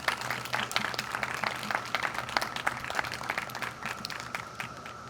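Audience applause for fifth-grade students standing at a school ceremony in Springfield; a steady patter of many hands clapping at moderate distance, sustained for several seconds with a faint crowd murmur beneath.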